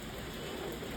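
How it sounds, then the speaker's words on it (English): Heavy rain pours steadily outdoors during a storm in South Korea, a dense, even hiss of water on surfaces with no pause, heard alone without voices. "That's how bad the rain was"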